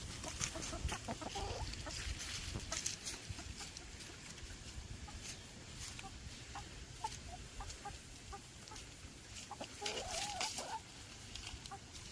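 Chickens clucking in a backyard pen, quiet scattered clucks and murmurs from several hens at a modest distance over faint background noise, with a few brief bursts of louder clucking.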